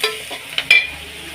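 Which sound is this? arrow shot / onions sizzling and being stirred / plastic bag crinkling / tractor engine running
onions sizzling and being stirred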